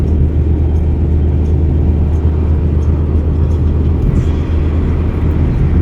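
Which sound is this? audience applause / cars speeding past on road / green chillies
cars speeding past on road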